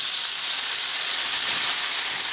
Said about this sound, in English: So I take this beer and I'm going to deglaze the pan.